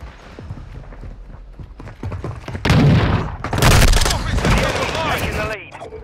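Call of Duty gunfire crackles in loud, dense bursts that swell and fade over several seconds, after a stretch of quieter rhythmic tapping.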